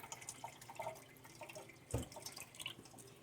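Water drips and trickles softly while rinsing sprouting micro-green seeds, with a brief splash of pouring around the middle, fairly quiet and close.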